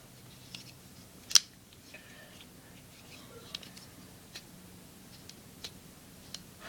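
Spyderco Sage 1 folding knife being flicked open, a sharp bright snap of the lock followed by softer scattered clicks and handling ticks, close and quiet with no talk.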